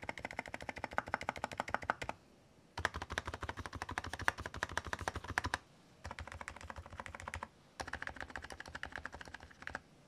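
Rapid, continuous typing on a COX CNK84W gaming keyboard with rapid trigger, close up, coming in three long bursts with brief pauses between them.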